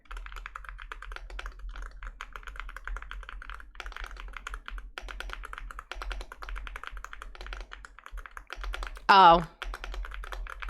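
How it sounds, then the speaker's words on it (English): Typing on a computer keyboard during a Halloween horror-story reaction stream, brisk uneven clacking keystrokes up close, with a brief exclamation and a louder burst of noise near the end. "Yeah, this keyboard is really great."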